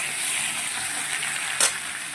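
Meat curry seasoned with garam masala sizzles steadily in a pan while being stirred, with one brief louder scrape or burst of sizzle near the end.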